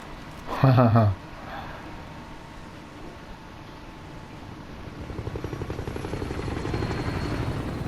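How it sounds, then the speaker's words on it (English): Helicopter arriving in the video game Warzone: after a brief burst of speech early on, a low rotor chop fades in and grows steadily louder and more rhythmic toward the end. "Yep, and then comes the helicopter."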